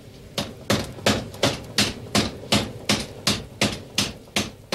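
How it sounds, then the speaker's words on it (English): Heavy forging hammer blows strike heated metal through swaging tools, landing one after another in a steady, even rhythm, about two strikes per second, loud and close. "the heated metal is placed under a hammer"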